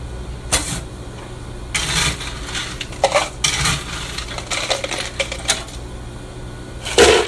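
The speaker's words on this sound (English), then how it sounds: "you're going to fill this up with ice and put it into the blender." Ice cubes clatter and rattle into a cup in several bursts for a strawberry banana smoothie, a hard rattling pour with short pauses between scoops.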